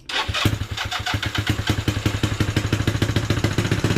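A small scooter engine sputters and catches after being choked, then settles into a fast, rhythmic putter, close and loud, with no talking.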